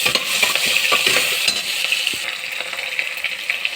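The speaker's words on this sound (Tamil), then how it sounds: "கடுகு பொரிந்தவுடன் சின்ன வெங்காயம், பெரிய வெங்காயம், பச்சை மிளகாய், பூண்டு சேர்த்து" Shallots, onions, green chilies and garlic fry in oil after mustard seeds have popped, giving a loud close sizzle with brisk stirring and spoon clatter against the pan.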